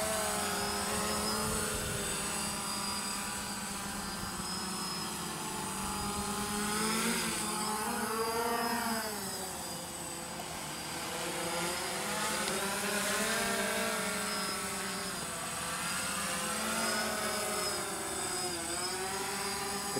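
A DJI Phantom drone on its first flight, right out of the box, outdoors in some wind, hums with a steady whining buzz whose pitch wavers as it flies, close and continuous, with no talk.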